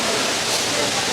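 Kudlu Teertha waterfall pours with a steady, dense rushing roar, loud and close, a continuous broadband wash with no breaks.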